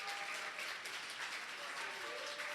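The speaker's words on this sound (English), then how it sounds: "please stand up and let people give you a round of applause" A room at a university startup demo day awards ceremony applauds a pitching founder, a faint but continuous wash of many hands clapping, with a few voices buried beneath.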